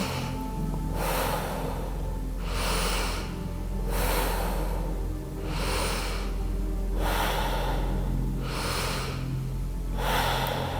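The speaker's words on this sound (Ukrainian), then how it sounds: "Дихаємо діафрагмою." Deep diaphragmatic breaths during a Wim Hof breathing exercise, six loud rhythmic inhale-exhale cycles, close to the microphone with no talking.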